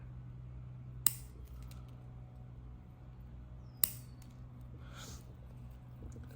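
Two sharp snips of pruning shears cutting back a branch on a Catlin elm bonsai, spaced a few seconds apart and fairly faint, over a low steady hum, with a soft rustle near the end.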